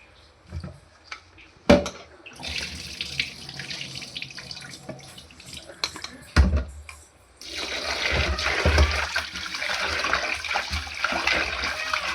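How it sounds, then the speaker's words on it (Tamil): Raw mutton rinsed under a running tap in a sink, water splashing steadily and growing louder in the second half, with a few clunks of a vessel. "மட்டனை வந்து வாஷ் பண்ணி எடுத்து வச்சுக்கலாம்"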